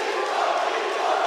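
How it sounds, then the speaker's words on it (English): Arena crowd at a live MMA fight night roaring and cheering wildly, a dense continuous wall of shouting voices from a large audience, loud and sustained with no pauses. "Oh my God, the crowd's going crazy."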